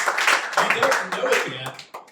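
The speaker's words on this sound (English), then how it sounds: "give yourself a huge round of applause" A crowd applauds with scattered clapping, mixed with cheering and voices from the audience.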